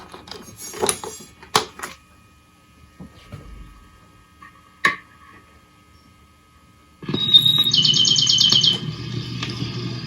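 Sparse bird chirps and a few clicks over a quiet hum, then a steady National Geographic bird sound record played on a 1956 Trav-ler combo comes in with bright whistling calls and continues.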